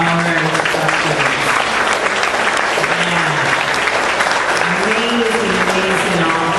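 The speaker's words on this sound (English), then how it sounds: "how about a big round of applause for all our instructors?" Loud, continuous applause from a fitness event audience for the instructors, a dense clapping wash throughout, with voices and whoops rising intermittently over it.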